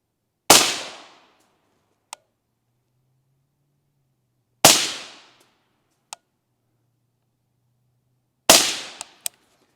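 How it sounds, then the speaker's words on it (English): Three sharp rifle shots ring out at a night match, each a loud crack with a short decaying tail, spaced about four seconds apart, with a small clicking sound after each. "three shots, let's go check it out."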